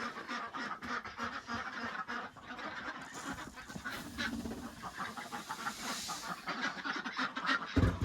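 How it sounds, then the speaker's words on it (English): Ducks on a farm pond gathering for food, a busy overlapping chorus of quacks and honking calls close by, with splashing and rustling throughout and louder calls near the end. "Okay, ducks, I have some food for you."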